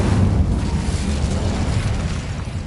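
A fire spell cast as an explosive burst, heard as a sustained, loud rumbling roar with deep low-end boom lasting the whole moment, no voices over it.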